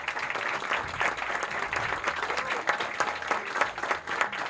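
Guests at a clinic barbecue gathering give a round of applause, a dense, lively burst of clapping that stays fairly loud and uneven for a few seconds.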